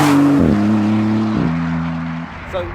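An Alfa Romeo Giulia car drives past with a loud, tonal engine note that drops in pitch in steps as it goes by, then fades into the distance.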